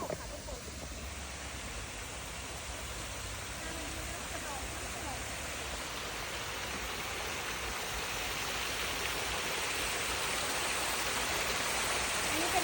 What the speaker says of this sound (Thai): น้ำตกเล็กๆค่ะ